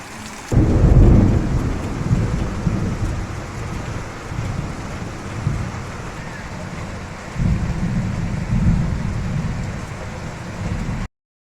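Heavy rain pouring in a storm, a loud steady wash with deep thunder rumbles swelling near the start and again later, and wind buffeting the microphone.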